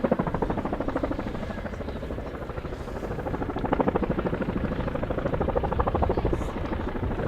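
A Chinook twin-rotor helicopter runs in to land at an air show display, its deep rhythmic rotor thudding loud and continuous, swelling slightly as it approaches, with no talk.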